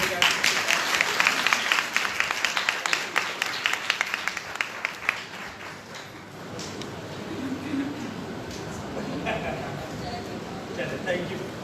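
Applause at a Sunday church service, dense clapping from a congregation for several seconds that thins out, then gives way to a voice speaking over low room murmur.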